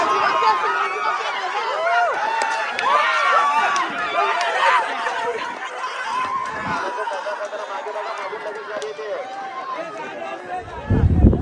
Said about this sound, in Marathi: आज जल्लोष बघा मित्रांनो बघा जल्लोष